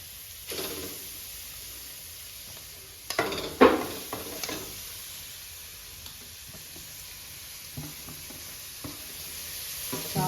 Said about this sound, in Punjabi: ਹੁਣ ਆਪਣਾ ਘਿਓ ਮੈਲਟ ਹੋ ਗਿਆ ਆਪਾਂ ਵਿੱਚ ਗਾਜਰਾਂ ਪਾ ਦਾਂਗੇ